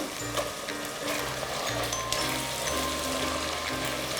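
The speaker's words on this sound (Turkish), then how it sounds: "Soğanlar, biberler, sarımsaklar yaklaşık bir 5 dakikadır birlikte kavruldular." Onions, peppers, garlic and two tomatoes sauté in a pan for çoban kavurma, giving a steady soft sizzle and hiss with a low background hum throughout and no voices.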